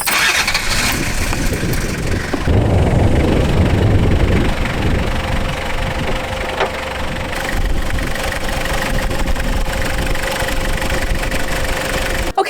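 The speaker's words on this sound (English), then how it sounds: "Now I'm going to turn on the engine and double check how it looks when the engine is running" A campervan engine cranks and catches, roaring loudly for a couple of seconds before settling into a steady, close mechanical idle with a faint knocking rhythm.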